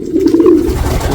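Racing pigeons, long-distance 600-mile cock birds, coo steadily in a loft, a continuous low throaty burble filling the whole short stretch at close range with no talk.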